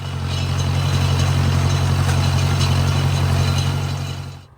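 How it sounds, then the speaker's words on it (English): Farm tractor with a hay tedder hooked up, idling in a hayfield: a steady, loud low engine drone with a constant hum that runs evenly, then fades quickly at the very end. "Got the tedder hooked up to the tractor."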